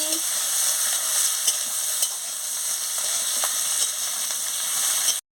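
Spiny gourd (kakrol) frying with onion for a chochchori gives a steady, close sizzle with occasional clicks and scrapes from stirring, running evenly throughout.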